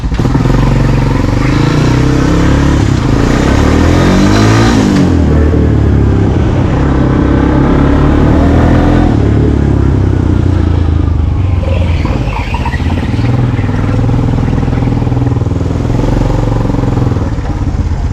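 A 2021 Honda TRX250X ATV runs and rides, its engine loud and close throughout with steady droning and rising and falling revs, and no talking over it.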